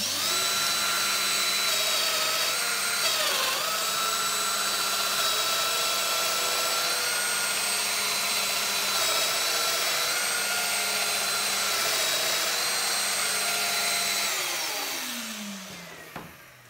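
A Festool Domino joiner cuts a deep 70 mm mortise into wood, its motor whining at a high, steady pitch with a brief dip early on, then spinning down and stopping near the end.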